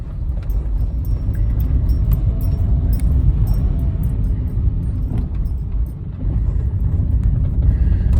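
A car drives down through King Williams Glen toward the Boyne visitor centre, a steady close road rumble and tyre noise from inside the cabin, continuous and unbroken throughout.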